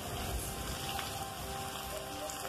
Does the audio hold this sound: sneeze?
no